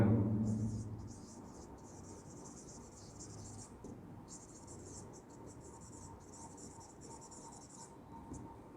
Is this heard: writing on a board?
yes